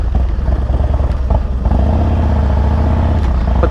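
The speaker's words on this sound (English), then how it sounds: "That way you can really bounce it off the rev limiter, hear that when you're riding." A Harley-Davidson Dyna motorcycle engine roars loud and close, bouncing off the rev limiter with a rough, stuttering rumble.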